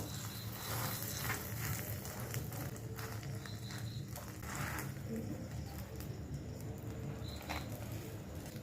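Beaten eggs with a little salt frying in hot oil in a pan, a dense continuous sizzle up close with faint background noises throughout.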